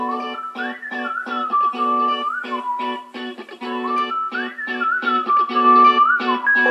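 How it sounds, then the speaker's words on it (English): Music with a bright whistled melody over a regular pulsing beat plays from an amzdeal Pixel Cube portable Bluetooth speaker, clear and fairly loud with no talking. "I'm going to play a couple pieces of music and just let you hear what it sounds like."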